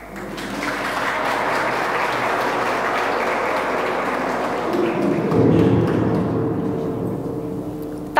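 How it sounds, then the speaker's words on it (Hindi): Audience applause for a guest at an institute function, a broad, steady wash of many hands clapping that swells slightly near the end, with a low rumble and a few thumps underneath. "Please give a big round of applause for Ojang sir, the AMD of this institute"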